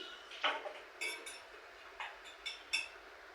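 Beaten egg is whisked in a bowl, giving a handful of light, quick clinks and taps spaced unevenly across a quiet background.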